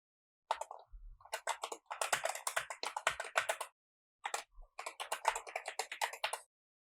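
An email address is typed on a computer keyboard in quick bursts of crisp, close keystrokes, a flurry of clicks, a pause, then another rapid run of typing.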